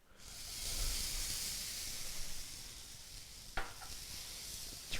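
Capers hit a very hot pan still holding juices from pan-seared fish, giving a loud steady sizzle that swells and holds, with a few sharp spatters and pops near the end.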